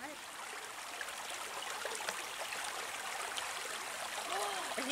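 Steady rush of icy spring water running over stones, with light splashing as hands are rinsed in it; no talking.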